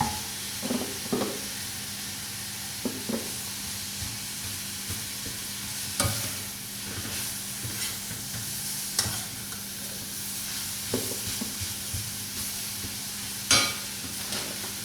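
Steady sizzling of sliced leeks sautéing in a pan over high heat, with occasional sharp stirring clicks and scrapes over the continuous hiss.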